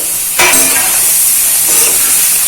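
Capsicum and onions hit a hot pan on a low-medium flame and burst into a loud, steady sizzle that surges at once and keeps hissing throughout, with a brief stir partway through.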